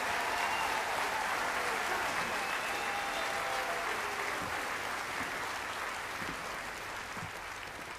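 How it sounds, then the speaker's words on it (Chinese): Faint, continuous applause from a theatre audience at a live stage show, filling the whole stretch and slowly tapering off, with no speech over it. "掌声还不够，朋友们"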